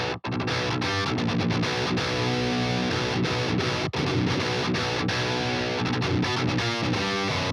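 A high-gain electric guitar through a Bogren Digital AmpKnob BDH3 amp plays dense, heavily distorted chugging riffs with brief stops between phrases, loud and continuous with no talk.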